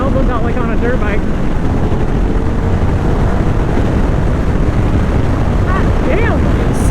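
Steady wind buffeting and rushing air noise while riding a GT motorcycle, loud and continuous throughout, with faint voice-like fragments over the roar.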